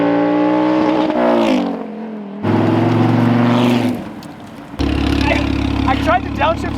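Rear-wheel-drive Lamborghini Huracan accelerating hard, its engine note climbing in loud rising sweeps broken by gear shifts, close and strong.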